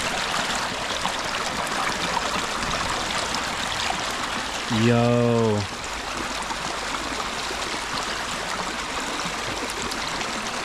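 A creek flows through the woods with a steady, broad rushing of water. A man's short call rises briefly over the flow partway through.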